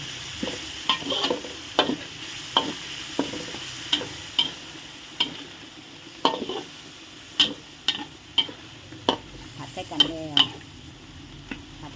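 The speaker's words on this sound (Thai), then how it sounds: "เราจะค้นใส่กันนะจ้าผัดใส่กันเลย ผัดใส่กันเลย" A chicken curry with fish sauce and soy sauce is stir-fried in a pan, a faint sizzle running under repeated sharp clinks and scrapes of a spatula at an irregular pace.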